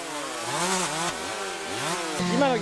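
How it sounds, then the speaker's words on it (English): Chainsaws cut down pine trees in a forest by a tourist site in Yamanashi, Japan, their engines revving up and down in rising and falling whines, loud and close, with a sharp jump in pitch near the end. "The sound of chainsaws echoes across the woods."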